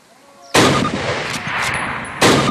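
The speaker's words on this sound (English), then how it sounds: "fire 2 rounds at your target" Two loud, close Springfield rifle shots ring out in a Call of Duty training level, each a sharp crack followed by a long rumbling echo.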